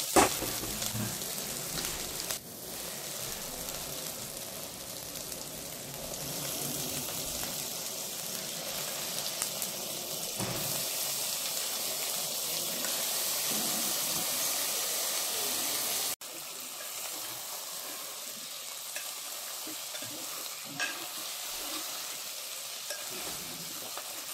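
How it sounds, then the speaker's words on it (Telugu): Mutton pieces sizzle and fry in a pan for Indian mutton curry, a steady broadband hiss with stirring scrapes throughout, continuous and fairly close, easing slightly toward the end with no talking. "ఇలా దోరగా వేగినప్పుడు మనం మటన్ వేసేసుకుందాం."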